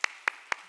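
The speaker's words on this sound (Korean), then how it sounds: "감사의 박수입니다." A church congregation at a Sunday worship service claps for the worship team, three sharp, evenly spaced claps sounding close and alone.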